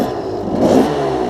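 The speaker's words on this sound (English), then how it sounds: "I'm about to show off my new electric start" A 2014 KTM 300 XC two-stroke dirt bike starting on its electric starter and revving, a loud, steady engine drone that swells briefly in the middle of the clip.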